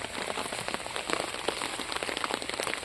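Steady rain pattering on garden plants, spurge and ornamental foliage among them, with dense scattered drops close by and no voices.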